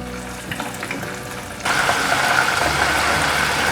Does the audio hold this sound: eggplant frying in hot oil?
yes